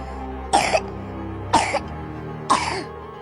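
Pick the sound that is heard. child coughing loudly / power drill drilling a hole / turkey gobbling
child coughing loudly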